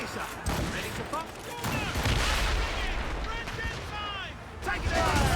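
Ship cannons fire in a naval battle in Assassin's Creed Rogue, a dense rolling barrage of blasts under shouted crew voices and busy sea-battle noise, loud and continuous.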